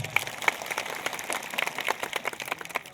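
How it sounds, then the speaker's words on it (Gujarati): A crowd at a village gathering applauds the village heads, giving dense, steady clapping throughout that carries a mid-distance, open-air feel, with no voices over it. "એકવાર સરપંચો માટે જોરદાર તાળીઓ પાડી લો"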